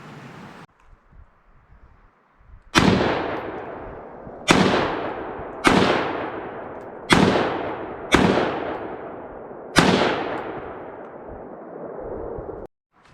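Five or six loud, close rifle shots from a German G36 fitted with a dual optic, fired outdoors, each a sharp crack with a long echoing decay, spaced a second or two apart with one longer pause.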